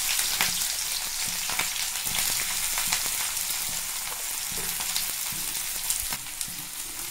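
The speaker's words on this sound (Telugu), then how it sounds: "దీంట్లోకి పొడవుగా కోసుకున్న ఉల్లిపాయ ముక్కలను వేసుకుందాము పచ్చిమిర్చితో సహా" Sliced onions and green chillies frying in hot oil, giving a dense, continuous crackling sizzle up close, steady throughout with occasional stirring knocks underneath.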